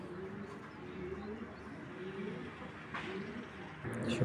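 Racing club pigeons coo in steady, repeated low throaty phrases close by, with a brief rustle near the end and no voices.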